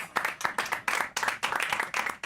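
Audience clapping at a magic show, sparse and close-sounding, with a handful of hands clapping in quick uneven bursts for a couple of seconds.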